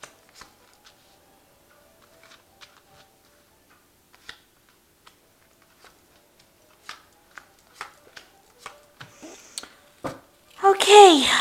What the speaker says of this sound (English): I'm just going to shuffle this. I have shuffled this deck before,